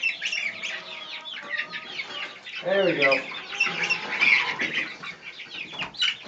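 Chickens cluck and chatter close by, a busy flock of grown birds with scattered calls, while a person briefly speaks over them.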